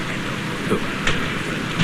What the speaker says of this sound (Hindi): ओहो, बारिश शुरू हो गई।